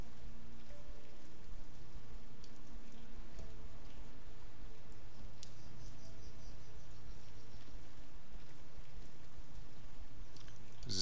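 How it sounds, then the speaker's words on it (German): Rain falling in the video game Champions of Regnum, a steady soft hiss of drops with faint ambient game sounds, continuous throughout. "Schönes Regenwetter habt ihr, Süden."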